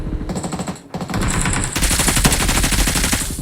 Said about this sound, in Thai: เขายิงอะไรตรงนั้นฮะ